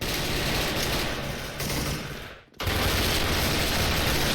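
Sustained automatic fire from an AUG assault rifle in a shooting video game, a dense burst that fades briefly then resumes loud and continuous.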